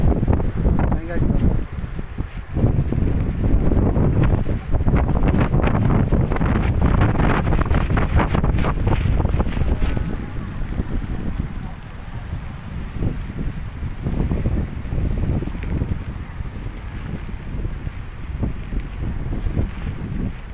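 Strong typhoon wind from Typhoon Ulysses roars and buffets steadily across the microphone in Navotas. It stays loud and gusty throughout, with voices talking underneath.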